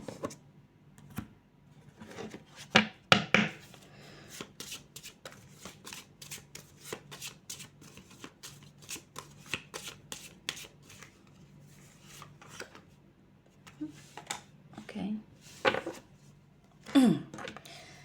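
Oracle and tarot cards are shuffled by hand in a quiet room, a long run of quick crisp riffles and flicks in irregular bursts, close and fairly soft.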